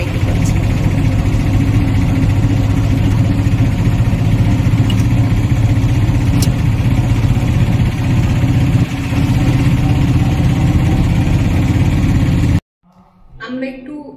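An auto rickshaw engine drones steadily and loudly throughout a ride on a hot sunny day, a constant rough mid-pitched rumble that cuts off abruptly near the end.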